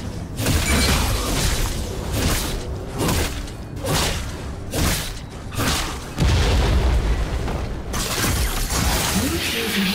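A turret being destroyed in League of Legends during a Renekton versus Fizz mid-lane match: repeated heavy booms and shattering crashes amid dense combat effects, with an announcer voice speaking over the action.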